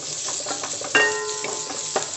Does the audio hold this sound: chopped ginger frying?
yes